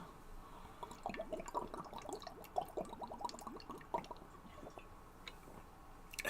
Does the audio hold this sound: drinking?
yes